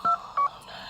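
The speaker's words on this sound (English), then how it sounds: "So I'm going to go ahead and make the phone call." Telephone dialing tones: two short, clear DTMF beeps in quick succession, close and clean, followed by a quiet hiss.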